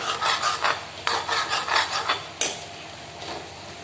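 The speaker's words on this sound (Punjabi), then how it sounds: "ਇਹਨਾਂ ਨੂੰ ਆਲੂਆਂ ਨੇ ਚੰਗੀ ਤਰ੍ਹਾਂ ਭੁੰਨ ਲਵਾਂਗੇ" Potatoes roast in a kadai for aloo halwa, a spoon scraping and stirring them in quick rhythmic strokes, loud and close, then slowing to softer scrapes near the end; no one speaks.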